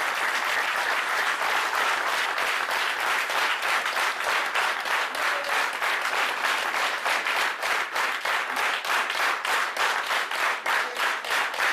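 Audience at a training seminar applauding to welcome a speaker onto the stage, loud, dense and steady clapping from many hands that keeps going for the whole stretch, with no talking over it.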